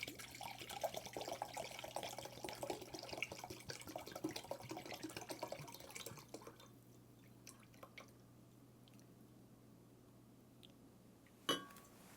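Rye whiskey pouring into a measuring cup: a steady liquid trickle and splash over the first six seconds, then quiet with a few faint drips and one sharp clink near the end.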